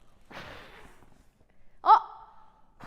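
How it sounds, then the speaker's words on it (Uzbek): One breathy puff blows out candles on a birthday cake at a child's home party, followed by a short, bright voiced exclamation; fairly close and otherwise quiet. "Lisa shamlarni puflaydi."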